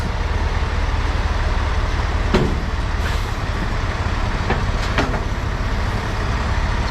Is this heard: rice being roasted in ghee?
no